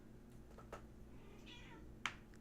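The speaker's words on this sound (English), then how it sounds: "you singing to us, kitty butt?" A house cat lets out a few soft, faint meows in a quiet room, one near the start and a sharper cry near the end, with low background hum.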